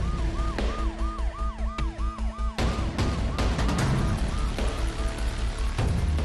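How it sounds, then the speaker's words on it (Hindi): Ambulance siren racing through the streets of Beirut during unrest, a loud rising-and-falling wail with rapid yelp cycles over traffic noise, followed by sharp clattering bangs and more siren. "सड़कों पर एम्बुलेंस दौड़ रही है।"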